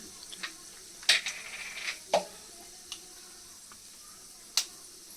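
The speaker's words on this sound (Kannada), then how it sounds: "ನೋಡಿ ಆಗಲೇ ಸಿಡಿತಾ ಇದೆ." Mustard seeds spluttering in hot oil for a Mandya-style tempering, with onion cooking in the pan: a few sharp, scattered pops over a faint, quiet sizzle.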